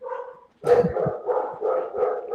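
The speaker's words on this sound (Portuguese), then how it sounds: "Aí tem um cachorro latindo aí, meu cachorro tá latindo." Fierce German shepherd barking close by, a string of loud, gruff barks in quick succession after a brief opening whine.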